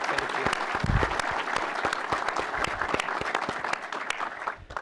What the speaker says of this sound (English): Join me in a great round of applause for Jack London.